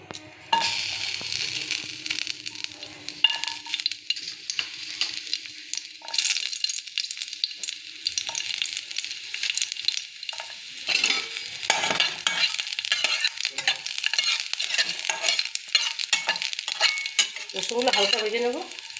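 Garlic frying in hot mustard oil in a karahi, giving a light crackling sizzle broken by repeated stirring and scraping sounds that grow busier toward the end.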